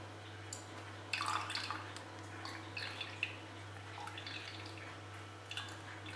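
Almond milk dripping and trickling through a strainer into a bowl, with scattered irregular drips and small splashes over a steady low hum, fairly close and soft.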